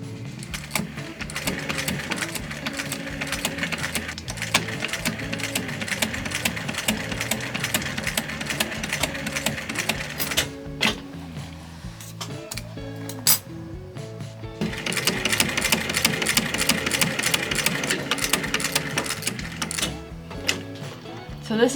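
A sewing machine stitches a leather bag with a rapid, rhythmic mechanical chatter, close and steady, pausing briefly around the middle before running again, with light clicks of handling between bursts.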